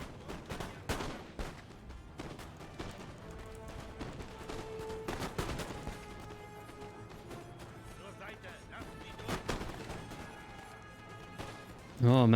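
Musket volleys crackle through a battle in the video game Napoleon Total War, with dense overlapping gunfire bursts, sharp individual shots and a constant din of fighting across the whole stretch, ending in a sudden loud burst.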